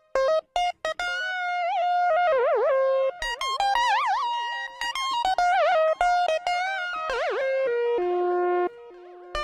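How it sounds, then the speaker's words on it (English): An Arturia Mini V synthesizer plays a loud, bright lead melody of sustained, buzzy notes with wavering vibrato and pitch wobbles, phrase after phrase with short gaps, no voices. "it's the Arturia Mini V"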